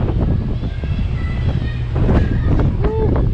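Wind buffets the microphone in a steady low roar throughout a cold day at the Disney Magic water park, with splashing water and faint voices mixed in.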